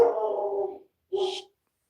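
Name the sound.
dog barking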